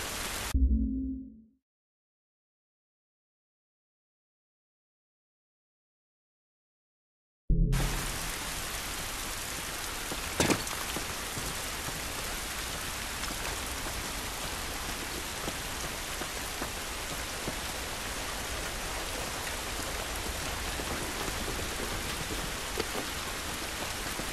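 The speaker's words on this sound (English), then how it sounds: "This rain ain't gonna do us any good." Steady rain in The Last of Us video game, a dense hiss of falling water that starts abruptly after a few seconds of silence and continues evenly, with one brief sharper crackle partway through.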